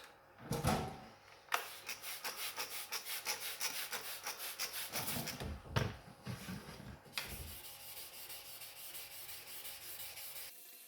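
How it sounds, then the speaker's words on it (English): Sandpaper rubs over the orange-peel paint on a BMW E34 Touring during wet sanding, with light pressure. The rasping strokes run back and forth in a steady rhythm, close up and continuous, with no voices. "just rubbing over with very light pressure and just letting the sandpaper do all of the work"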